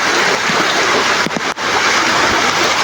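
Typhoon floodwater surging through a neighborhood of houses, a loud continuous rushing and churning of water with a brief splash, close and steady throughout.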